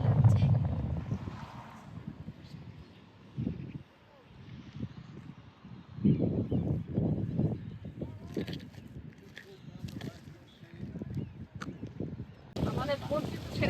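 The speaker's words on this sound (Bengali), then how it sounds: "আমাদের বোট কিন্তু ছেড়ে দিয়েছে, আমরা মাছ ধরতে যাচ্ছি।" Small fishing boat heading out on a cold, rough sea, with a low rumbling engine and wind buffeting under people talking, the water and motor noise rising and falling throughout.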